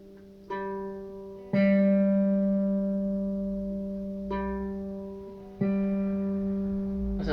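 Single acoustic or electric guitar string plucked repeatedly during tuning, four separate notes ringing out clearly and sustaining steadily with no wobble, close and alone.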